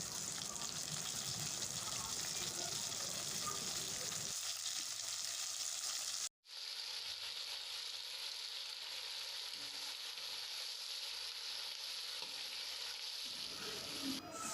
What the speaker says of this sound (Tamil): நறுக்கின 3 தக்காளியை போட்டு நல்லா வதக்கணும்。